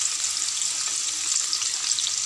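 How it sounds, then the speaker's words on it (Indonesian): Onions sizzling as they go into hot frying oil left over from frying fish, for a Malaysian sambal ikan cencaru: a steady, dense crackling hiss that is close and continuous, with no talking. "Minyak pun dah panas. Sekarang saya nak masukkan bawang besar."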